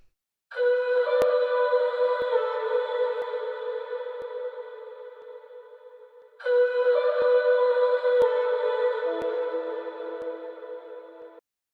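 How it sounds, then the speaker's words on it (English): A processed vocal sample sings two long sustained notes, the second starting after a brief break and dropping lower near its end. "Next, I came in here with a vocal chop."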